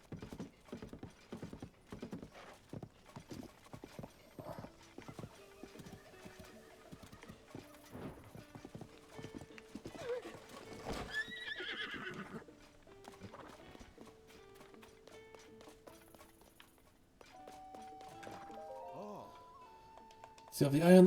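Rhythmic hoofbeats clip-clop steadily at a fast pace in The Legend of Zelda: Tears of the Kingdom, with a horse whinnying partway through and a burst of game sound effects at the end.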